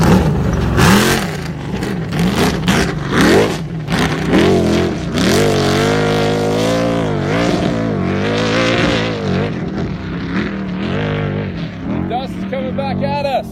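Off-road race vehicle accelerating hard through a horseshoe U-turn during qualifying for the Parker 425 desert race, a loud, continuous engine roar with rising and falling revs, close by, with speech-like tones mixed in.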